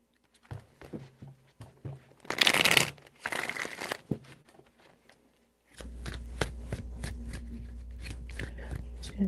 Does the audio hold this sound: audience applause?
no